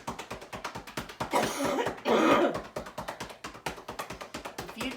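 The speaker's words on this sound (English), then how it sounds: "I'm coughing a lot." A rapid series of dry, sharp human coughs, close and fairly loud, with two longer rough bursts in the middle, from a person with COVID-19.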